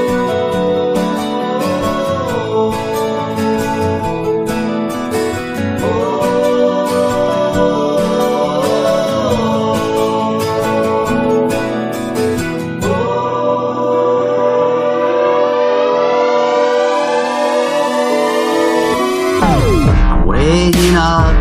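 A song plays on its own: a dense, loud mix of sustained harmonic instruments with shifting chords, ending in a rising sweep and a sudden swooping pitch drop.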